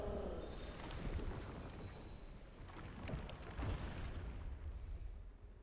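Explosions from the video game Black Myth: Wukong, a dense, loud, continuous rumble of booms and bursts with sharper blasts around the middle, filling the whole stretch without speech.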